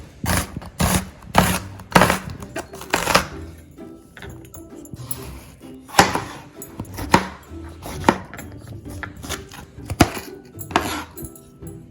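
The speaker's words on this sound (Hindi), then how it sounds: "आप एक मीडियम साइज की प्याज ले लें और उसको बारीक स्लाइस कर लें।" A knife chops finely through onion and tomatoes on a board, sharp distinct knocks coming in quick irregular bursts with short pauses between, close and loud with no talk.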